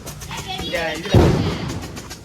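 A single sharp, booming firecracker blast bursts out about halfway through during Diwali, ringing briefly amid chatter and background voices.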